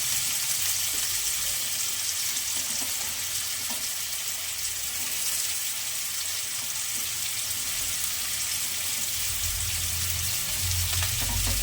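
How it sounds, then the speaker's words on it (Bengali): Continuous hissing sizzle of potatoes frying in a pan, steady and close, with faint scraping of stirring underneath. "আগে আলুটা ভেজে নিই।"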